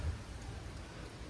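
Steady rain falls outdoors during a visit to a pigeon loft, a soft continuous hiss with a low rumble underneath, heard alone and fairly faint.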